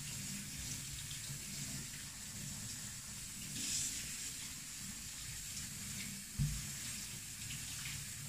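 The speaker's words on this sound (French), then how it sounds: "on le refroidit avec de l'eau froide pour couper la cuisson" Cold tap water streams steadily over cooked pasta in a colander, a continuous close hiss and splatter with a brief louder splash near the end.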